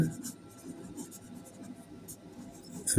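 Pen scratching on paper during a handwritten math lesson, with short, soft, irregular strokes close by and a faint voice in the background.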